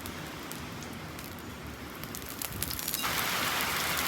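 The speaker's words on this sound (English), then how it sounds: "It is a monsoon out here." Heavy monsoon rain pours down outdoors as a steady, dense hiss that swells louder toward the end, with no voices.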